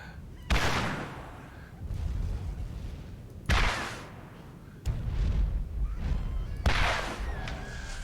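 Missile launcher shots and blasts in Borderlands: several loud booming launches and explosions arrive at irregular intervals, each with a rumbling decay, with no voices over them.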